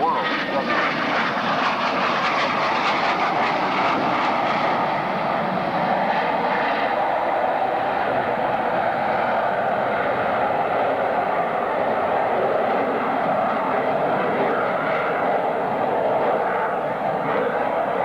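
A jet at the 1995 London International Airshow, likely the F-117 stealth aircraft, roars in a loud, continuous broadband rumble that holds steady throughout, with a crowd murmur mixed underneath.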